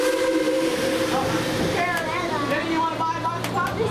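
A Tweetsie Railroad steam train rolls along loudly as its whistle sounds in wavering, sliding tones over a steady low rumble of the cars.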